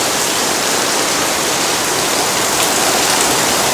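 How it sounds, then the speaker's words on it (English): Heavy rain pours onto a tarp, a dense, loud, continuous hiss of drops with no pauses throughout. "Raining super hard right now."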